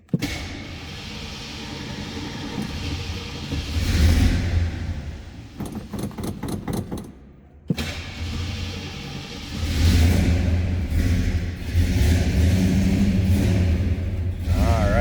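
1968 AMC Ambassador with a 343 V8 started from cold, a brief crank catching into a steady, loud rumbling idle that swells as the engine revs, with a short break in the middle.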